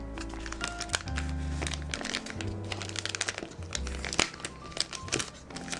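A taped-up package holding keyboard parts is unwrapped up close, with steady crinkling and crackling of tape and packaging, sharp tearing bursts and a few loud cracks, and no talk.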